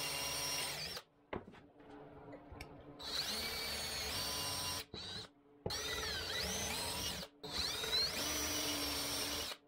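Power drill boring pocket holes into a cabinet shelf for a miter station, several close whirring runs of a few seconds each with short gaps between them, with no speech over it.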